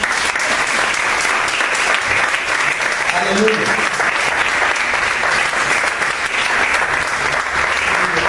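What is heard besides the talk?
church congregation applauding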